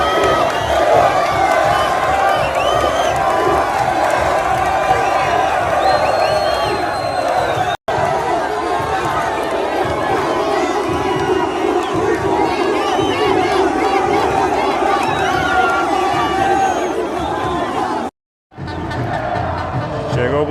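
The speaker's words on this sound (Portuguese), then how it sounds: "vídeos em sequência para vocês aí da torcida do Vasco fazendo uma linda festa ontem lá em Itajaí" Vasco football supporters celebrating in Itajaí, a dense, loud crowd roar of chanting and cheering that runs continuously for about twenty seconds, with two brief cuts to near-silence along the way.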